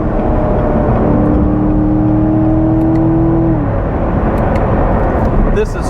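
A 2019 Chevrolet Corvette C7 sports car pulls away gently on a cold road, a steady engine drone with a rising then falling tone over heavy road and tire noise, heard from inside the cabin.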